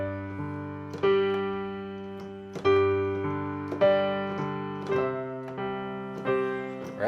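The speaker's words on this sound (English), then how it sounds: "I took the classic grandfather clock tune that most of you," A classic grandfather clock chime tune, composed as game audio for a clock-themed game, plays as a melody of about six struck, ringing tones that each decay slowly, moving down and back up in a steady rhythm.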